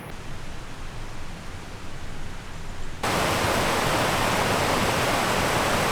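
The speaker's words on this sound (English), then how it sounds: "Beautiful river." A river along the Appalachian Trail near Connecticut flows with a continuous broadband rushing hiss that jumps abruptly louder and fuller halfway through, then holds steady.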